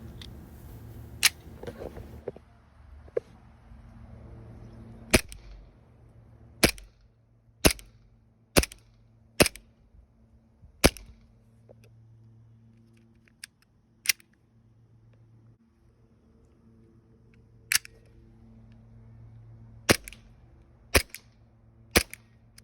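A WE Glock 26 gas blowback airsoft pistol firing, sharp isolated cracks spaced irregularly, about a dozen shots with a few quick pairs, close and crisp over a quiet room with no talking.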